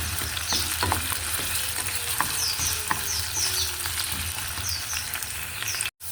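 Potatoes frying in oil until soft and brown, stirred in the pan: a loud, dense sizzle with intermittent scrapes and taps of the spatula, briefly cutting out near the end.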